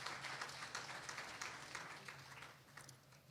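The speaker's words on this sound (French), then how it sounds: "Je pense qu'on peut encore l'applaudir, s'il vous plaît." Faint applause from a seated audience at a formal French-language gathering honouring a speaker, steady clapping that slowly fades, heard alone at a distance.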